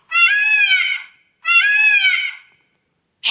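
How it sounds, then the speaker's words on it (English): A peacock calls twice in loud, drawn-out nasal wails, each about a second long with a short gap between, and a third call begins at the very end; no other sounds. "Peacock."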